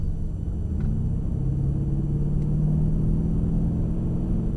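A Mercedes CLS63 AMG engine rumbles low and steady as power comes on around a race track, a dense, continuous drone heard from inside the car with no talking.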